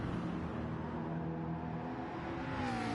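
GT3 BMW race car engine from a racing video game, a steady droning roar with shifting pitch, loud and continuous throughout, no voices.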